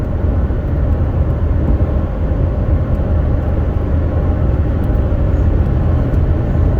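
A Ford F-150 with the 5.0 V8 and a tuner pulls hard at full throttle, a loud, steady, low engine roar with road noise filling the whole stretch, no talking over it.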